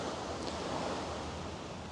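Ocean surf breaking along the Portuguese coast as rain begins, a broad continuous wash of noise at moderate distance with a soft windy rustle and no talking.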